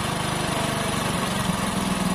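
A motorcycle engine idles at low speed near the point of stalling, a steady, loud, throbbing rumble that holds even throughout, with no talking over it.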